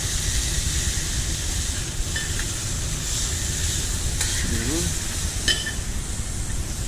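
Burger patty held pressed flat on a hot griddle, a loud, steady sizzle throughout with a few sharp clicks and a brief murmur of a voice partway through.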